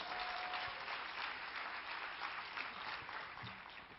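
A crowd applauds at a talk promoting Kangen water, a continuous even patter of many hands heard from a distance, quite faint and steady for the whole stretch.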